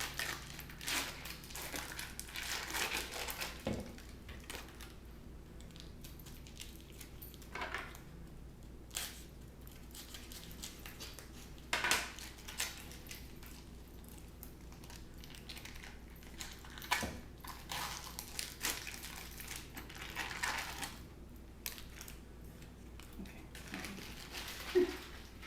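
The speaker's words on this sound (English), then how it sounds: "you're going to open up both packages of cream cheese and you're going to dump it into your mixing bowl" Quiet crinkling and tearing of cream cheese packages being opened for a cheesecake, followed by soft scattered taps and plops as the cheese is dumped into a mixing bowl, fairly close with no talking.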